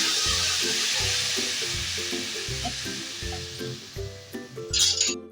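Milk being stirred with fried vermicelli in a pot, a soft steady sizzle under repeated clinking taps of a spoon against metal, ending in a brief louder splashing scrape, with no talking.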